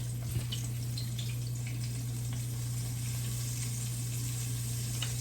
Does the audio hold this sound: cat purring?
no